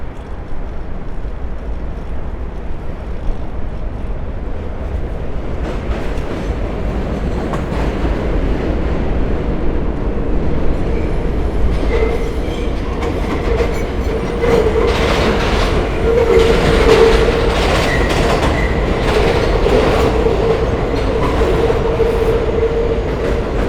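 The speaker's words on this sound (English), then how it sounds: "It's the 7 train rumbling above us." A New York 7 subway train rumbles overhead at night, a steady low roar with clattering wheels and metallic screech building toward the middle, heard from below the elevated track without talk.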